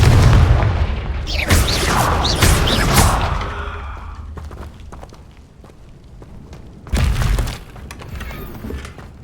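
A Confringo blasting spell goes off in Hogwarts Legacy with a loud booming explosion and crackling debris, then fades before a second heavy blast near the end.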